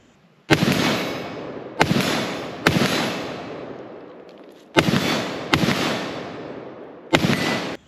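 An IWI ACE 5.56 pistol with an 8.3 inch barrel fires six sharp, loud shots at irregular intervals, each followed by a long, decaying outdoor echo.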